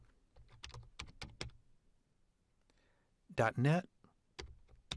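Typing on a computer keyboard while entering PowerShell commands: bursts of sharp, close key clicks with short pauses, alternating with someone speaking.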